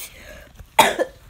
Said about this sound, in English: I'm coughing, my throat's hurting